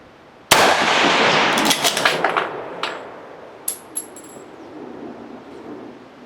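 An Enfield two-groove rifle fires on a 200-meter range: one sharp, loud shot with a long decaying tail, then a few fainter metallic clicks and knocks.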